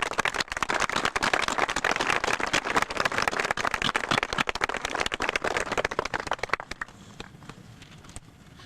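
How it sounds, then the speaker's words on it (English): Steady applause from a crowd at an eighth grade graduation ceremony honoring staff members, dense clapping that holds for several seconds and then drops suddenly to a faint scatter. "I'd like to lead a round of applause for those staff members who are here tonight"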